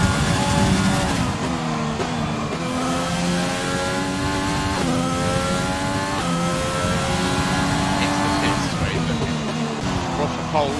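A race car laps Monza in a racing video game, its engine droning loud and steady through upshifts and downshifts, with a commentator talking continuously over it.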